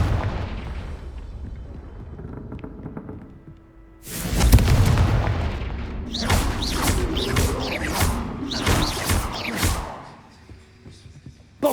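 Confringo blasting spells in Hogwarts Legacy, deep booming explosions with crackling bursts, loud and close, after a quieter rumbling stretch.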